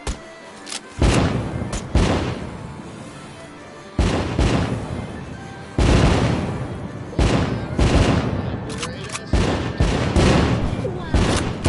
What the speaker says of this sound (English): Light up those fireworks, sit back and enjoy the show.